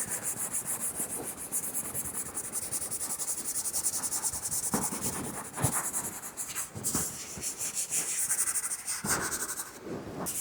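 Charcoal smudged and rubbed across paper while shading a face drawing: a steady, close, dry scratchy rubbing with repeated strokes and brief stronger swipes, no talking.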